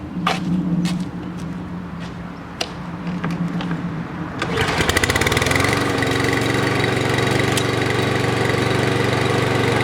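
A small engine sputters and catches, then a Toro lawn mower with a starts-then-stalls fault runs steadily at a loud, even drone after a few quiet clicks and taps.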